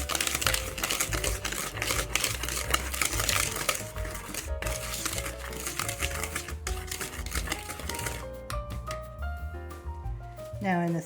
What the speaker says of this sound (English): Now we're going to mix that ingredients, whisk it together so that it's mixed really well.